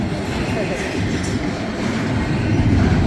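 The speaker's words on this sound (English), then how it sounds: "Here it comes. We got a train meet." A CSX freight train on the Erie West Subdivision rumbles past close by, a loud continuous roar of wheels and cars, with a voice faintly under it.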